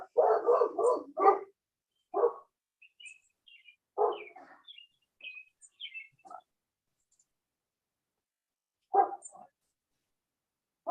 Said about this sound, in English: Your dogs are so cute, Hodges.